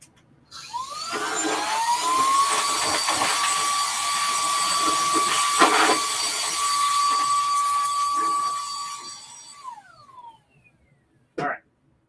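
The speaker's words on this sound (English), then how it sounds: "Let's get my air duster because there's some stuff in there." An air duster blasts compressed air into a resin SLA printer: a loud, steady hissing rush lasting about nine seconds, with a whistling tone that wavers and tails off, then a brief final spurt.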